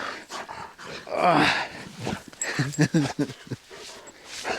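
Pet dog whimpering and growling playfully at close range during an off-road camping trip at high altitude, with short excited yips, while a person speaks to it in an affectionate voice.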